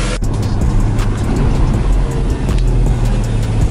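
A Chevrolet Corvette C7 ZR1 rolls along a street, its loud, steady engine drone and road rumble filling the cabin continuously with no talk.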